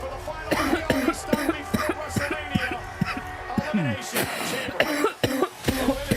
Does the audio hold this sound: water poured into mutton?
no